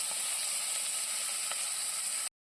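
Sliced onions frying in oil in a pan for a chicken curry give off a steady, close sizzle, with a couple of faint scrapes as they are stirred, before the sound cuts off abruptly.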